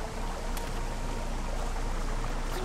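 Waterfall in the video game Risen, a constant loud rushing splash of water that holds steady and dense throughout with no talking.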